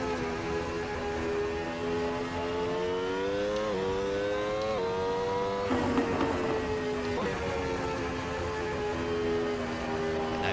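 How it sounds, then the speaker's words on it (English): A Williams FW24 Formula 1 car in a racing game screams at full throttle in seventh gear around Catalunya. A loud, sustained engine whine climbs steadily, then drops sharply for a gear change midway before building again, with no voices. "Let's just try full throttle here, deep in 7th gear."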